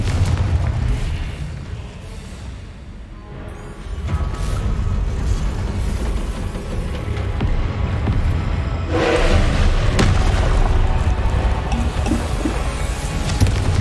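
A Confringo blast spell in the Hogwarts Legacy video game lets out deep booming explosions amid a steady rumbling battle din, loud and close, with a second heavy burst surging up partway through.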